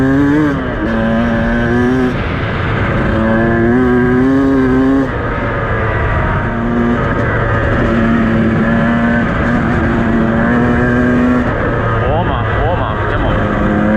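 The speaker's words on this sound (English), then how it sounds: "We were just wheel spinning in top gear then." A car engine revs hard while the wheels spin in top gear, with a loud, rising and falling engine drone throughout, up close, and a voice talking over it.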